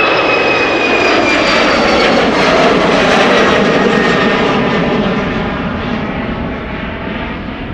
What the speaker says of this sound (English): KLM flight 1273 outbound to Poznan. Embraer 190.